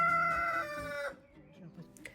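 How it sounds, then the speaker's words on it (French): Roosters crowing in a June vegetable garden, one long harmonic crow ringing out loud and close for about a second, then fading into quieter clucks and scattered farmyard bird calls. "comme les coqs ont continué de s'en donner à cœur joie"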